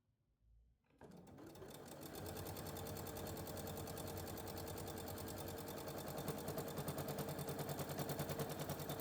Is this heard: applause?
no